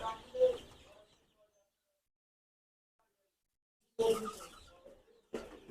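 A few short, soft clucks from Egyptian Fayoumi and tiger chickens in separate bursts, separated by a long stretch of silence, fairly near and quiet.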